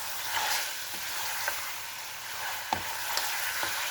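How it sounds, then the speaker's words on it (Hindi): Ginger garlic paste frying in oil for mutton karahi, a steady loud sizzle with a few light scrapes of a spoon against the pan, no voices. "तो ये पेस्ट शामिल करके हमने यहाँ पे इसको 3 से 4 मिनट के लिए अच्छी तरह से फ्राई कर लेना है"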